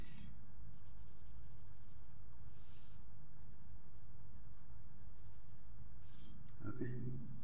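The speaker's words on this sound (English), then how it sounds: "let's put some details on this little box with some pencil color" A colored pencil scratches steadily across paper while details are added to a small drawn box in a cartoon dinosaur picture, a continuous soft scraping heard beneath a person talking throughout.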